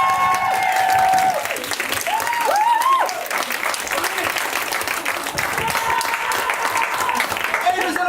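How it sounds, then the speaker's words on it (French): An audience at an integration seminar applauds and cheers to welcome an improv team onto the stage, clapping loud and sustained throughout, with whoops and shouted voices rising over it. "un spectacle d'improvisation avec deux équipes ce soir que vous allez accueillir sous un tonnerre d'applaudissements"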